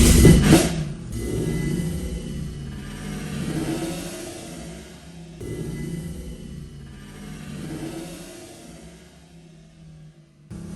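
Drill spinning the oil pump through the distributor hole to prime a 383 big block V8 on a Dodge Coronet, a steady loud whirring rumble that swells and eases over several seconds, no talk.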